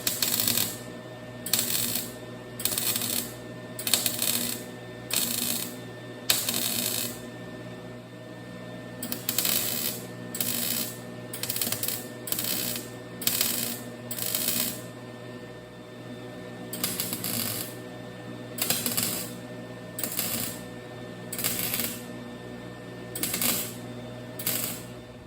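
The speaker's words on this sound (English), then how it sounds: "we're using, for this job, a Lincoln Electric 180 Pro MIG" Lincoln Electric 180 Pro MIG welder making tack welds on a metal sign, a rapid series of short crackling bursts in uneven clusters, separated by brief pauses over a low background hum.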